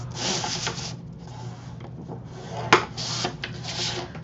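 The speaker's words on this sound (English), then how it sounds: "With the 7-inch side at the top, we're going to score at 1/2 inch." Paper flaps of 4.5 by 7 inches scored at half an inch for a mini album, giving soft, close scraping strokes in quiet, repeated passes with one sharper tick midway.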